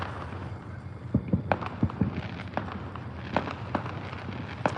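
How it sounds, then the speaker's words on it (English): Firecrackers go off in a scattered string of sharp pops and cracks, some close and loud, others fainter, over a steady hiss with no talk. "Go and get some of these firecrackers out."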